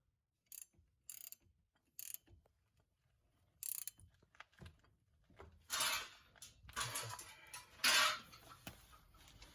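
A ratchet wrench tightening bolts during a Brembo brake swap on a Dodge Charger RT, bursts of quick clicking ratchet strokes with pauses between them, building to louder, denser runs near the end, up close with no speech.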